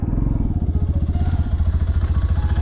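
A motorcycle engine runs close by with a steady, pulsing low throb that keeps its loudness throughout, out on a road in the Rann of Kutch desert border area.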